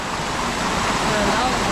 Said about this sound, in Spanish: este es el río de agua termal